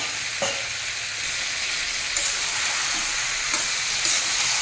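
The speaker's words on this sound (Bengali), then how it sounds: "টমেটোটাকেও লাউয়ের সঙ্গে খুব ভালো মতো মিশিয়ে দেবো" Chopped tomato stirred into bottle gourd frying over high flame, a steady soft sizzle throughout with occasional light scrapes and taps of a spatula against the pan.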